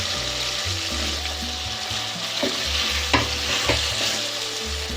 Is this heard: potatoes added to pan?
yes